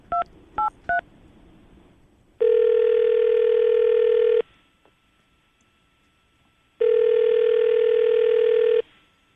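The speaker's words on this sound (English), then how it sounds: "we're going to call her right now" A telephone call being placed: three short touch-tone dialing beeps at the start, then two long, loud steady ringback tones separated by a quiet gap, with no voices.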